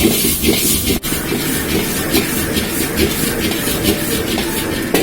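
Fried prawns tossed with salt, pepper, sugar and pepper powder sizzle in a hot wok, a steady loud hissing sizzle with faint scraping, no talk.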